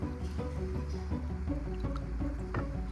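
Coconut pulp being squeezed by hand into water while making a Malaysian coconut chicken curry, soft wet squishing and dripping sounds repeating close by over a low steady background.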